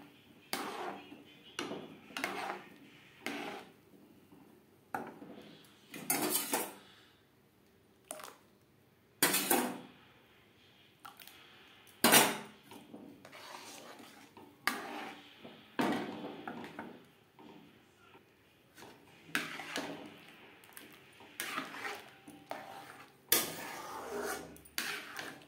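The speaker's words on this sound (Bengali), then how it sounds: "এইভাবে ভিনিগার আর জল অ্যাড করতে থাকবো আর নাড়তে থাকবো যতক্ষণ না পর্যন্ত দুধ থেকে ছানাটা পুরোপুরি আলাদা হয়ে যায়" A spoon stirs and scrapes a pot of milk as vinegar-water is poured in to curdle it for rasgulla, making irregular bursts of clinking and scraping against quiet gaps.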